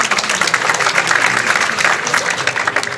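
An audience applauds at a prize ceremony marking an 80th anniversary commemoration, a dense, even patter of many hands clapping continuously for a few seconds with no talk over it.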